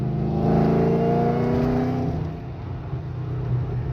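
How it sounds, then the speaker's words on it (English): Supercharged car engine with an LSA Roots-type blower revving at about three-quarter throttle near 3,000 RPM, a loud, close, steady droning growl with a rising harmonic whine that eases slightly midway and holds on. "But this is going to be about a 1/2 to 3/4 throttle, and watch the boost gauge."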